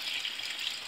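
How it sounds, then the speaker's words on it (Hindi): Water pours into a pot of black chickpea curry, a steady soft gush with a broad hiss that runs unbroken and fairly quiet throughout, with no talking. "अब इसमें पानी और ऐड करेंगे"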